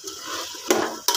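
Food fries in a pan for a home-cooked Telugu meal, a soft sizzling hiss broken by two sharp scraping clacks of a utensil against the pan, close and brief.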